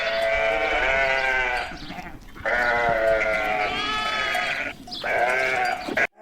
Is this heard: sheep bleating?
yes